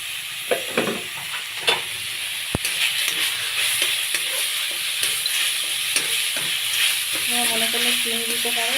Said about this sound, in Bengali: এখন নারকেলটা কড়াই দিয়ে দেবো